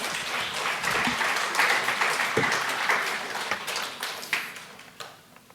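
Applause from the audience at a school geography bee, a brisk burst of clapping that holds for a few seconds, then thins into scattered claps and dies away.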